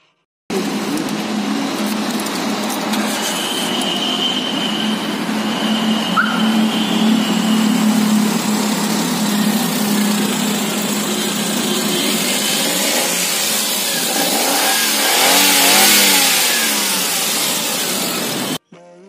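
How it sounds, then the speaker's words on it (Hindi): A Maruti Suzuki Alto CNG car engine running close by, idling steadily and then revving up and settling back, the note rising and falling over several seconds with no talk over it. "अब आपको इसके इंजन की साउंड सुनाते हैं"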